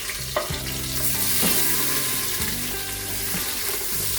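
Three green chilies frying in hot oil for a biryani, a steady close sizzle with a few stirring scrapes and clinks of a utensil against the pan.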